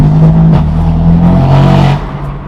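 A straight-piped BMW M4 in third gear gives a loud, raspy, buzzing exhaust note under throttle, rising slightly in pitch, then easing off near the end.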